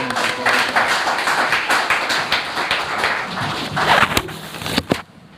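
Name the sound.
audience clapping to welcome speaker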